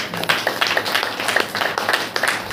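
A church congregation at a Saturday praise meeting claps together in rhythmic bursts, a roomful of hands striking in a steady repeated beat with faint voices underneath.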